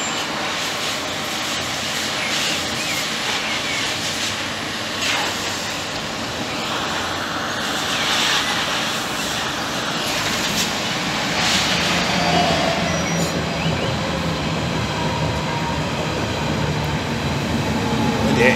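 Berlin S-Bahn class 481 train crossing the Teltow canal bridge, a loud continuous rumble and roar with metallic rail rattle that stays steady and swells slightly toward the end.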